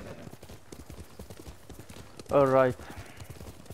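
Horse hooves clop steadily in Ghost of Tsushima, a samurai action video game, with a voice speaking briefly over the hoofbeats and a short loud tonal burst partway through.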